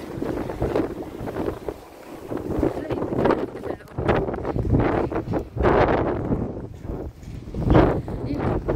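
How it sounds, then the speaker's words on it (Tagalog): Strong wind buffets the microphone in heavy, gusting rumbles that surge and fade, with a loud gust near the end. "Pero malakas ang hangin."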